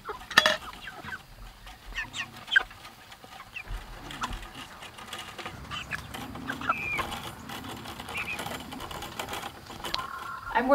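Chickens cluck and squawk continuously, fairly close, with a busy mix of bird calls and some rustling throughout.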